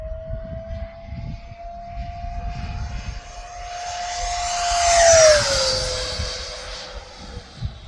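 A radio-controlled jet aircraft screams past at full throttle, its steady high whine rising to a loud peak as it sweeps overhead, then dropping in pitch as it moves away, with wind rumble throughout.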